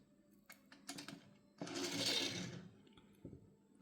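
A die-cast Toyota Sprinter Trueno AE86 toy car rolls across a surface, a quiet close whirring rumble of small wobbly wheels lasting about a second, framed by a few light clicks and taps.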